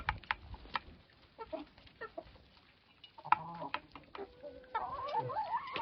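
Several hens cluck softly nearby in short, scattered bursts, with a few louder squawky calls toward the end and light rustling between.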